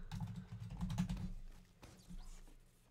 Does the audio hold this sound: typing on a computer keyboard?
yes